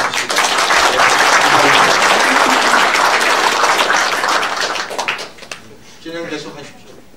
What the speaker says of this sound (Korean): 여러분 함께 하신 우리 모두를 위해서 크게 환영의 박수를 보내주시기